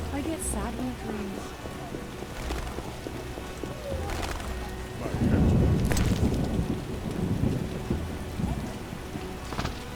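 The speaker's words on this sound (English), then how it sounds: "I get sad when it rains." Steady rain with rolling thunder in The Witcher video game, a low rumble swelling midway over continuous rainfall, with a voice speaking over the storm.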